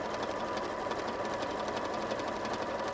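A sewing machine running continuously while it sews a straight stitch, giving a steady, fast mechanical whir and rattle at close range with no pauses or speech.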